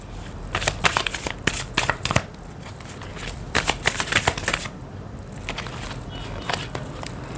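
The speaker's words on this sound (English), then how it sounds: "So shall we shuffle the cards?" Tarot cards being shuffled in quick riffling bursts, two main flurries with a pause between, crisp and close, with no talking.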